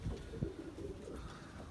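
A pigeon coos softly a couple of times, low and throaty, over a quiet background hum.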